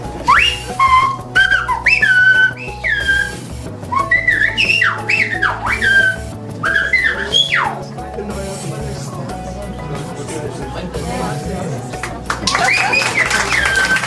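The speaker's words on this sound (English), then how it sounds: "an entertaining display of the whistling language of La Gomera" Piercing phrases in the whistled language of La Gomera, with sliding, swooping pitches, repeat in bursts, used like speech, over background voices and ambient murmur.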